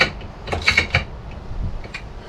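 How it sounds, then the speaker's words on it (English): A ring spanner tightening a nylock nut on a Land Rover 6x6 Perentie ambulance clutch, heard as close, brief metallic clicks and ratcheting scrapes, irregular and without any talk. "Ring spanner on the nylock"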